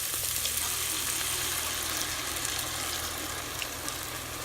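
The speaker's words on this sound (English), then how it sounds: "Now you're going to deglaze the pan with 6 ounces of beef broth" Beef broth poured into a pan of caramelized onions to deglaze it, producing a loud, dense, continuous hiss and bubbling sizzle that holds steady for several seconds without talk.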